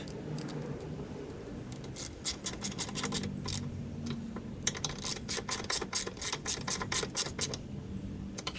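Tightening down a part on a Craftsman lawn mower with a ratchet, bursts of quick clicking strokes over a low background hum, close and moderately quiet.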